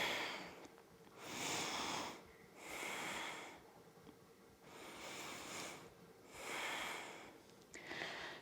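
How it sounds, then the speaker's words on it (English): Slow, deep yoga breaths during a seated twist on a mat: three long breathy inhale-exhale cycles, each a soft airy rush lasting over a second, close and alone with short quiet gaps between. "3 deep breaths here."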